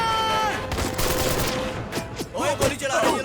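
Bursts of rapid gunfire and scattered shots over a noisy, busy background, with a brief voice or shout near the end, in a Hindi-dubbed action movie.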